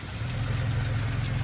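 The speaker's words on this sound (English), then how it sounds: "Got a bit of an exhaust leak there, as you can hear" A freshly built car engine, due for a dyno session, idles with an exhaust leak, giving a rough, throbbing low rumble that stays close and loud through a short burst.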